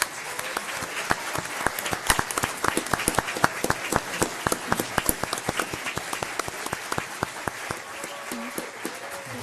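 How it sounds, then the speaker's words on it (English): A board meeting audience applauds an Elite 8 women's championship team standing to be recognized, the claps dense and steady throughout, fairly close and full, with no talking over them. "let's give them a round of applause"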